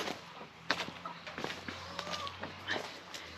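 A broody hen shut alone in a coop on a farm gives soft, scattered clucks, faint and close against a quiet background hum.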